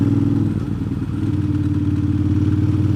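A Ducati motorcycle cruises a mountain road at steady speed, its engine droning in a low, constant hum with wind rumble, continuous and close throughout.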